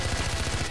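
Rapid automatic gunfire from a 9 mm weapon in Far Cry 4, a short, loud string of closely spaced shots.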